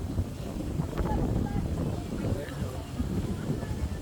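Steady wind gusting across an open hilltop viewpoint above Laguna de Bay, a broad low rumble buffeting the microphone throughout with faint voices mixed in.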